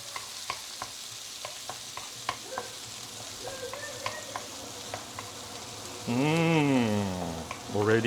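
Garlic and chili sautéing in hot oil for Thai basil roast pork, with a steady sizzle and scattered spatula clicks. A loud, buzzing harmonic tone sweeps up and down near the end.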